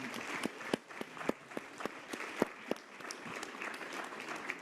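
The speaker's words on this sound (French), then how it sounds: "je pense qu'on peut applaudir Youssef, Marc-Alexandre et Karine." A conference audience applauds round-table panel speakers at a forum, many hands clapping with distinct, crisp individual claps over a steady, fairly close wash of applause and no talking.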